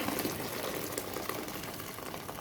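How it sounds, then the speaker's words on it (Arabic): Water at a rolling boil in a cooking pot gives off a close, steady bubbling and hissing roar that runs unbroken throughout. "انا غليت ميه اهي تاني"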